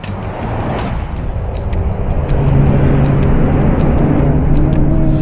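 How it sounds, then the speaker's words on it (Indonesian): A car performing stunts in the middle of a highway, its engine droning loud and steady, growing heavier and rougher partway through, with traffic-like noise and no voices. "sebuah mobil malah beratraksi di tengah jalan raya"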